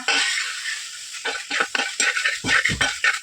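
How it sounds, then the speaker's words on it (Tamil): Chicken and masala sizzle in a hot pan while a spoon scrapes and stirs through it in uneven strokes, close and fairly loud. "சேர்த்துட்டு சிக்கனோட நல்லா கலந்து கொடுத்துக்கோங்க."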